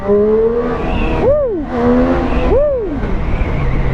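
A high-revving motorcycle engine screams continuously, its pitch swooping up and down twice in quick blips, loud and close with no talk.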